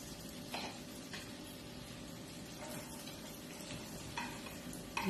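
Garlic frying in a pan with a soft, steady sizzle and occasional light stirring taps, close but fairly quiet, with no talking.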